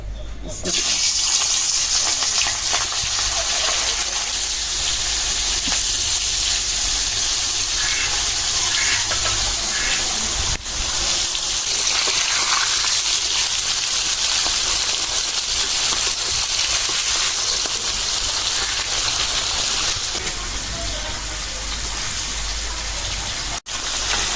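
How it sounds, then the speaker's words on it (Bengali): Hilsa fish pieces coated in chili powder frying in hot oil, giving a loud, steady, rain-like sizzle that runs unbroken for about twenty-four seconds. "তেল গরম হয়ে গেছে মাছ দিয়ে দিই"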